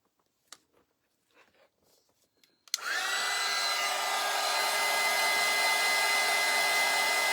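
A hair dryer switches on abruptly after a few soft handling sounds, then blows loud and steady at close range, drying a craft sheep made of spun cotton.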